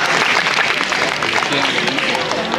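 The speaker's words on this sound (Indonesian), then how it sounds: "tepuk tangan teman yang adalah kompaknya dewa" Dense, steady clapping from a crowd fills the space, loud and continuous, with voices mixed in underneath.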